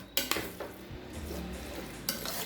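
A spoon stirs bisibelebath, a rice and boiled-vegetable mixture, in a cooking pot, giving a few scraping clinks against the metal over a soft, steady simmer.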